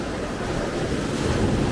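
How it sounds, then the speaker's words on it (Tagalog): Sea surf washes continuously onto a beach on Guimaras on a rainy evening, a close, steady roar of water mixed with wind noise and no voices. "tunog ng dagat, nakaka-relax kasi."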